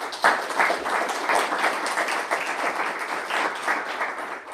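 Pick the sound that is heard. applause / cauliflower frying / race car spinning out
applause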